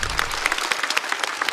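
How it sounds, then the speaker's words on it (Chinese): A live stand-up comedy audience applauds comedian Wang Ying in a close, dense burst of clapping that stays steady and loud throughout the short moment. "再次掌声送给王颖。"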